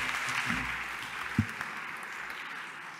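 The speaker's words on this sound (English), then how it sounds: "A warm round of applause." An audience at a talk gives a faint, brief round of applause, a soft spread of distant clapping that fades quickly in a large room.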